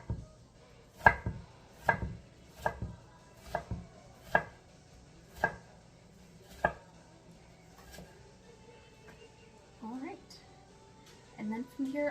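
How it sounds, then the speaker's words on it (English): An onion is diced with a knife on a cutting board, a run of about eight crisp, evenly spaced chops that slow and stop, followed by softer handling noises, close and clear. "And then I'm also going to dice up my onion"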